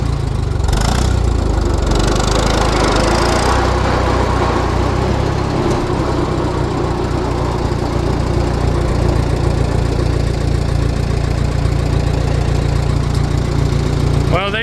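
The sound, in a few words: 1949 J.I. Case LA tractor engine running in fourth gear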